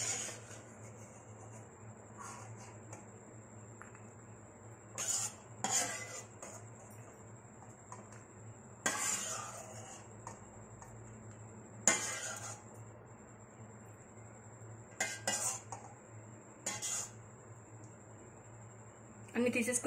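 Fried dry fruits are scooped from a pan into a bowl, giving sparse metallic clinks and scrapes of a spoon against cookware, with a steady faint hum underneath and someone talking over it.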